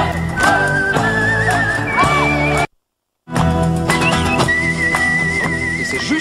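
A shrill, wavering whistle sounds repeatedly over music, breaking off briefly for a moment of silence before resuming.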